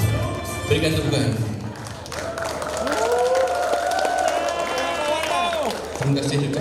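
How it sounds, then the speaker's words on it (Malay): Audience applause and cheering at a monthly district council assembly and awards programme fill the hall, a dense crowd roar layered under voices and music. "Berikan tepukan."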